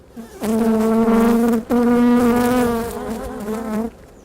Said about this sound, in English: A solid wall with a colony of bees living behind it for an estimated 20 years